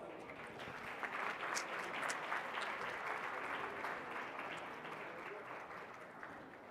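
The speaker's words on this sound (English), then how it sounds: "please join me in welcoming them with a huge round of applause" An audience at a national management day foundation ceremony gives a big round of applause to welcome guests, a dense, sustained clapping from a large hall crowd that holds steady and eases slightly toward the end.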